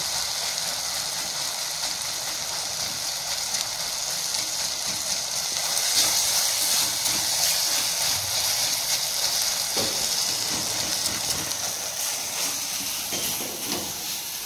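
Oil sizzles and hisses steadily in a pan as tempering spices fry for dal, a continuous crackling texture that rises a little midway and stays close.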